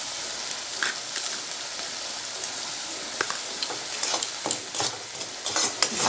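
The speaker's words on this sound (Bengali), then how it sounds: "মশলাটা ভালো করে ভেজে নিয়েছি" Turmeric, cumin and dry chilli powders fry in oil in a pan, stirred with a spoon. A constant sizzle runs under repeated close scrapes and clinks that grow busier toward the end.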